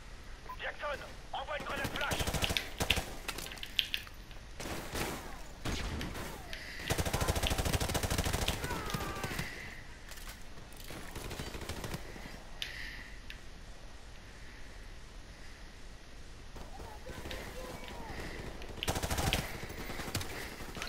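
Gunfire in Call of Duty Modern Warfare Remastered crackles in bursts of sharp shots and rapid automatic volleys, near and loud, mixed with other game sounds and someone talking over them.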